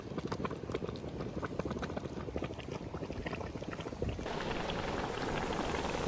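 Scalding water bubbles and churns steadily at a hot spring, like a pressure cooker building steam. The dense gurgling continues without a break and grows slightly louder and hissier toward the end.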